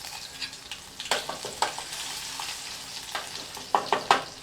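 Mustard seeds, cumin and garlic sizzle and crackle in hot oil in a kitchen pan, with a steady close frying hiss broken by sharp pops that bunch together near the end.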